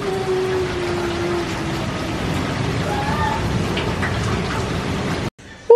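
Heavy rain pours steadily during a lightning storm, a dense continuous wash of drops on surfaces outside a house, loud and unbroken until it cuts off abruptly near the end.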